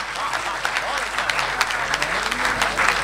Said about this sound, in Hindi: जोरदार तालियां लता हया जी के लिए होनी चाहिए